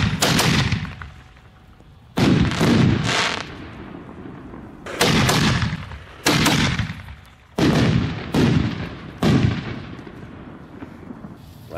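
Excalibur 60-gram firework mortar shells fired outdoors in a series of loud, sharp booms, about six launches spaced a second or two apart, each followed by a crackling, decaying tail.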